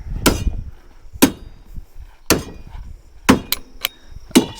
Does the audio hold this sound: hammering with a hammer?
yes